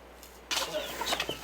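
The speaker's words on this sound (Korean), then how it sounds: "집에서 키우는 돼지며 닭 모이를 챙기는 것은 쩌우이장이 해야 하는 일입니다" Chickens cluck and call around a poor farmhouse in high mountains, close and fairly clear, beginning abruptly after a quiet start and continuing in short, irregular bursts.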